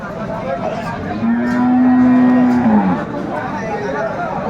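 A cow at the Aftabganj cattle market in Dinajpur gives one long, loud, close moo lasting over a second, set against a steady background murmur of the crowded livestock market.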